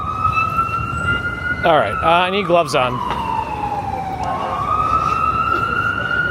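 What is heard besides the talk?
ambulance siren on a New York City street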